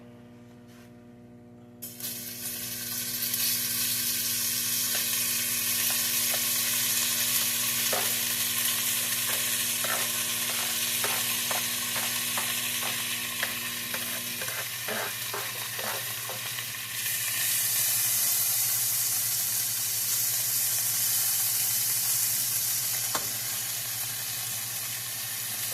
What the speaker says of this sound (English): let's fry our pork chops.